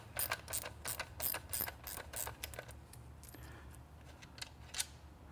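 Plastic screw on a car MAF sensor being turned out, giving a series of small, quick ratcheting clicks close by in a quiet space, irregular in spacing and fading into a few scattered ticks.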